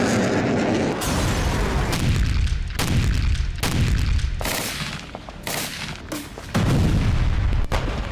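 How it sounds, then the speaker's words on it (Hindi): Israeli artillery shells Lebanon in a rapid series of heavy blasts, about eight sharp booms at uneven intervals, each with a rumbling tail, loud and close with no talk. "आर्टिलरी से भी गोलाबारी की जा रही है।"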